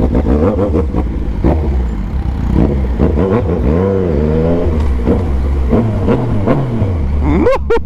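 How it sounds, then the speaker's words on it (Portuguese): A loud Yamaha MT-09 motorcycle engine rumbles close by, rising and falling in pitch as it revs, with a sharp high whine at the end. "o barulho dessa moto"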